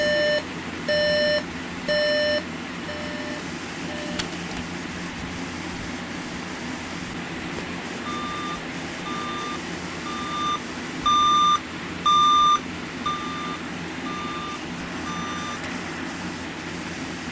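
A General Electric 7-4638B clock radio alarm sounds a repeating electronic beep, pulsing in short evenly spaced bursts over a steady background hum, clear and close.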